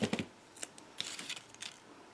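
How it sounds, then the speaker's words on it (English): Scissors snip a small piece of double-sided tape, a few quick, quiet crisp cuts close by, followed by faint rustling. "So I'm just cutting a small piece."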